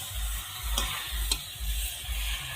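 Elephant apple pickle with turmeric is stirred in a pan, giving steady rhythmic scraping strokes with soft low thumps and a faint sizzle underneath, close and moderately loud with no voices.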